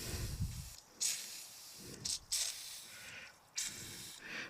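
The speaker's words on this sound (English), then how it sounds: "Release the air here until the water comes out." Air hisses out of a pool filter's release valve in several short bursts separated by quiet gaps, close and sharp, with low rumbling thumps between them.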